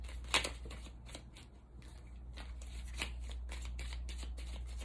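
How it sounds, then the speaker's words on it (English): Quick riffling bursts of small tarot cards being shuffled, repeated several times in close succession over a steady low hum, with no talking. "These cards are kind of hard to shuffle because they're so tiny."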